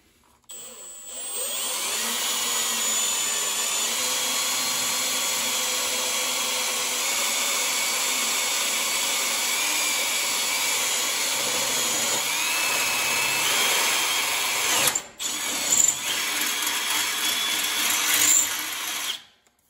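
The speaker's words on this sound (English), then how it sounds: "we'll drill a hole in the tractor" A power drill bores a hole into the body of a garden tractor, a steady loud whine that runs nearly twenty seconds, briefly cuts out near the end, then resumes for a short burst.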